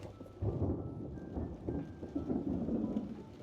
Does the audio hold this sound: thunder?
yes